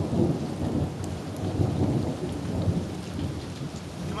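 A thunderstorm with steady rain pattering on surfaces and a low, continuous rumble of thunder rolling underneath, heard close and fairly loud with no voices.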